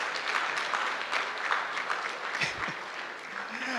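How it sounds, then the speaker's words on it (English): Applause at a company's 10th anniversary gala, a steady wash of clapping from a crowd that holds evenly throughout with no one speaking over it. "Give me a round of applause, guys."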